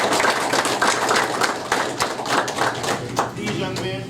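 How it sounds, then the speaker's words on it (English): A crowd at a university football press conference claps for the student football players, a dense, steady patter of many hands at close range running the whole time. "Let's please give them a round of applause."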